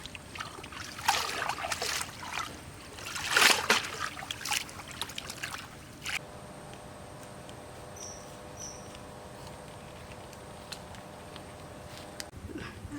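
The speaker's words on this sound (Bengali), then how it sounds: "মাছটা এখন ধুয়ে নেব" Fish being washed in water after cutting, with trickling and splashing handling noises close up for the first six seconds, then fading to a quiet background hum.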